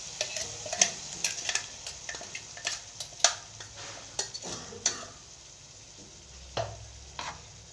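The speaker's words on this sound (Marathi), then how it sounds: "हे वाटण आता छान तेल सुटेपर्यंत चांगलं मिक्स करून घेऊ आपण।" Ground masala paste frying in oil with tomatoes while a spoon stirs it, giving a soft sizzle with irregular scraping clicks of the utensil against the pan, close and moderate.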